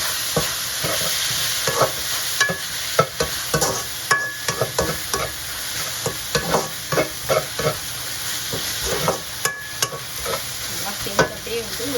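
Chopped onions frying on high flame, a constant sizzle punctuated by frequent rhythmic scrapes and knocks of a spoon stirring against the pan.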